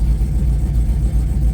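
A 1986 Cutlass with a swapped-in LS V8 sits at an unsettled idle, a deep, close, throbbing rumble with a steady low pulse and no talking.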